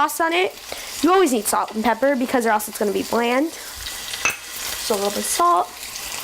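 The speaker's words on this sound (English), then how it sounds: "just let this get a nice sear on it, about 5 minutes per side" Pork searing in a hot pan with a continuous sizzling hiss beneath someone talking close by over most of the stretch.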